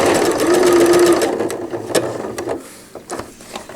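A sewing machine stitches slowly and gently around the curve of a cloth diaper cover with gussets. The motor runs in a steady burst at first, then gives way to short separate stitches and clicks, close by.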